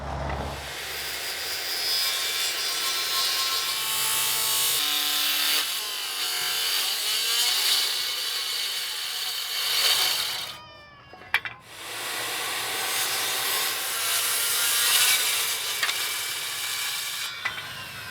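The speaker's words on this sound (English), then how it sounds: "we cut it out with a circular saw and did a rough test fit" A circular saw cuts through boat material in a sustained, fairly loud rasping drone that runs for several seconds, halts briefly with a clunk, then resumes steadily.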